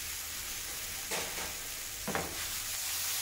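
Steady broadband sizzle of lamb and onion frying in a pan, with two brief stirring scrapes over a constant hiss.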